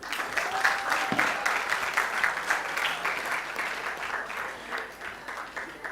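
Sustained audience applause at a TEDx event at Nile University of Nigeria, dense steady clapping filling the whole stretch with a brief voice heard early on.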